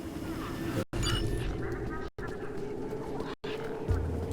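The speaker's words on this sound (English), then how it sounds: "Those birds weren't going to let me anywhere near the back of the truck." Birds squawking and honking harshly in the video game Beyond a Steel Sky, repeated calls over steady background noise, fairly faint and broken by short silent gaps.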